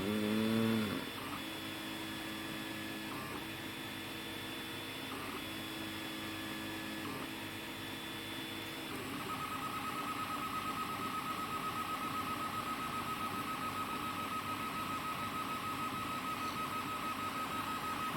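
A 3D printer runs its first print in PLA, its stepper motors whirring in changing tones with short pauses, then settling into a steady high buzzing whine, close and continuous with no talking.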